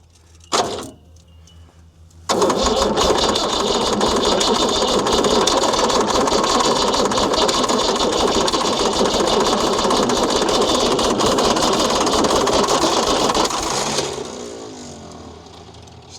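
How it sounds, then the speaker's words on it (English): An old abandoned Ford D Series diesel truck's rough-sounding starter cranks loudly and steadily for about twelve seconds in a close, continuous grinding churn, then winds down. "Starter sounds a bit rough on her."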